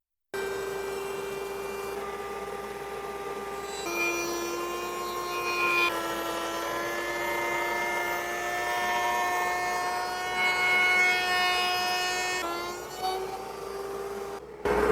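A handheld electric router with a bearing-guided bit trims the edge of an electric guitar body, giving a loud, steady, high motor whine that holds for the whole stretch, with slight pitch shifts as it cuts and no voices.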